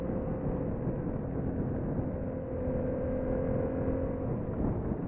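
Yamaha FZ-07 motorcycle engine running in a low gear, a steady muffled hum heard from the rider's position, fairly faint and even throughout.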